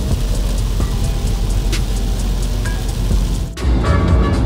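Heavy rain hammers a car while it drives, a dense, loud, continuous drumming roar over road noise, with a brief dip near the end before the downpour resumes.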